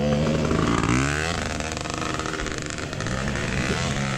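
A KTM 300 two-stroke dirt bike engine during a hare scramble, loud and close, its revs rising and falling continuously as the rider throttles through steep terrain.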